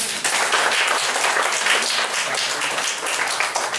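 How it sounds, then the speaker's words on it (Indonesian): Wedding guests clapping during a church blessing ceremony, a steady dense round of applause filling the room for a few seconds without talk. "mari kita beri sekali lagi tepuk tangan."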